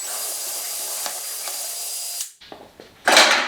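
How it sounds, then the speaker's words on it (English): A power drill whines steadily at close range drilling a bench dog hole in wood with a Parf guide, then stops, followed by a few clunks and a short final burst of drilling. "I'm going to drill out that first hole"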